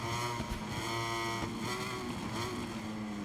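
Motorcycle engine on track in MotoGP 23 during a flag-to-flag race at the Indian GP, a steady loud high-pitched whine that shifts pitch as the bike brakes hard and the revs drop, heard alone without talk.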